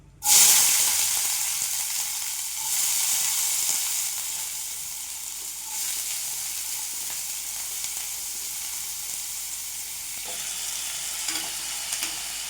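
Onions hit hot oil with a sharp burst while tempering for sambar, then settle into a steady, close sizzle and crackle that continues throughout, with occasional stirring clatter.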